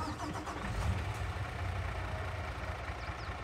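A Mack truck engine in the Farming Simulator 22 video game starts and settles into a steady, rumbling low idle, continuous and fairly close throughout, with no talking over it.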